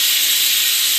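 Bottle gourd (lauki), two to three days old, roasting directly over an open flame gives off a loud, steady hiss with no break, like escaping steam, close and uninterrupted.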